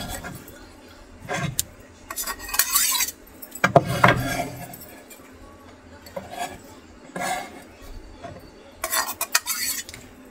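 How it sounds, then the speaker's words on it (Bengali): Garlic and very hot chillies chopped with a knife, heard as irregular bursts of close, crisp cutting and scraping on a board with quiet pauses between them. "বেশ অনেক করে কিন্তু কুচি করছি রসুন। হচ্ছে মরিচ কুচি, অনেক ঝাল মরিচ এগুলো।"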